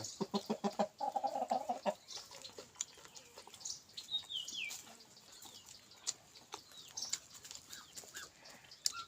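Several chickens clucking and squawking nearby in irregular bursts, one throatier call near the start, with a few higher cheeps scattered through.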